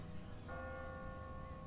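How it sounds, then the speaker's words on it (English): A church bell tolling in The Walking Dead video game, one sustained ringing strike with a humming decay, faint beneath a low background rumble. "That bell is gonna attract zombies."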